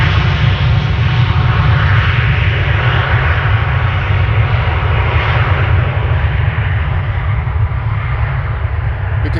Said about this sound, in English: This is Delta Airlines flight 243 to Boston, Massachusetts.